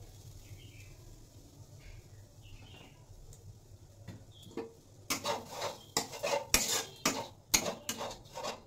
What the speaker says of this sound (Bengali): নারকেলের সঙ্গে সুজিটা একটু ভেজে নেব।